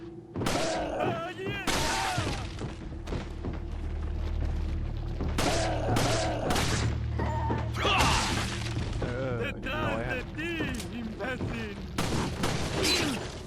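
Close gunfire in the Resident Evil 4 remake's village opening, sharp shots and thuds cracking out in irregular bursts over a steady low rumble of game ambience, with someone talking throughout.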